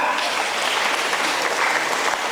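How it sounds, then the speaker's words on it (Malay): A crowd claps enthusiastically, a dense, even wash of applause that stays loud and steady throughout. "Berikan tepukan."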